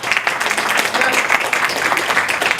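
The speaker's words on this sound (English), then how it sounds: "Give Linda a round of applause." A round of applause for Linda Clifford at a candy bar reveal event at Sweets Candy in Hollywood, dense steady clapping from a nearby crowd sustained throughout with no pauses.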